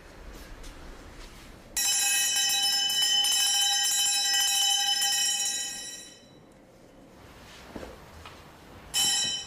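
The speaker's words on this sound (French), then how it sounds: "on sonne une cloche, afin de réveiller les jeunes prêtres" A bell rings out in a Soto Zen temple to wake the young priests, a bright sustained metallic clang that rings for several seconds, fades, then strikes again near the end.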